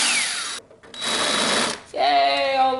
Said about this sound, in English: Yay, all the drilling is done